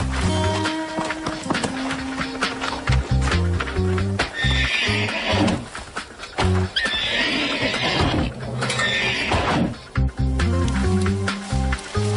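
Horses galloping across fields in a cartoon, with continuous thudding hoofbeats, repeated whinnies and neighs over an energetic music score, all loud and busy throughout.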